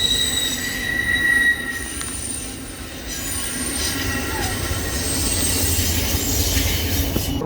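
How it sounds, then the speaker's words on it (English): Freight train wheels squeal on the track in high, piercing tones over the rumble and clatter of rolling railcars, loud and close, with no talking. "Oh, it's a train."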